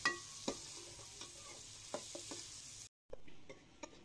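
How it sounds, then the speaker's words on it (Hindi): Quiet, steady sizzle of onions frying in hot ghee under occasional clinks and scrapes of a spoon stirring in a pan. "घी गर्म हो गया तो प्याज ऐड करेंगे सबसे पहले प्याज को अच्छी तरह से फ्राई करेंगे"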